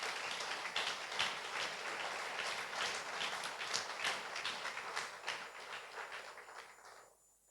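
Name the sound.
church congregation applauding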